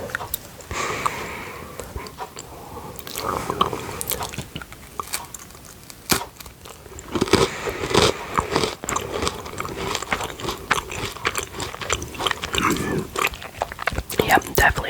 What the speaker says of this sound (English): So this is just the plain